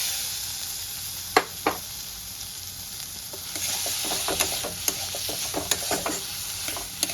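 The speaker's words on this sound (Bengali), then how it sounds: "এবার আমি ভেজে রাখা আলুটা দিয়ে কষাবো।" Fried potatoes are sautéed with spices in a hot pan, a steady close sizzle broken by sharp scraping stirs and clicks that grow busier in the second half, no voices.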